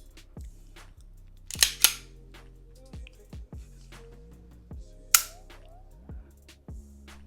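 Dry trigger pulls on a Sig Sauer P238 pocket pistol sound as a series of crisp, close mechanical clicks at an uneven pace, with a few sharper snaps standing out in a quiet room.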